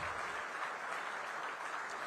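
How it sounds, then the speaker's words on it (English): Audience applause at the 18th Pravasi Bharatiya Divas Convention joint business session, a faint, distant, continuous wash of many hands clapping in a large hall. "Everyone, please give a thundering round of applause."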